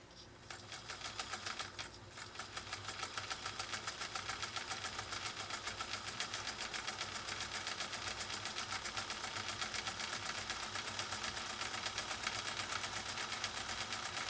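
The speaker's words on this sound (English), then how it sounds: "let's sew some ribbon material" A Singer Featherweight 222K sewing machine stitches ribbon material in a workshop, giving a steady, fast mechanical whir and clatter that runs nearly unbroken from start to finish, close and fairly loud.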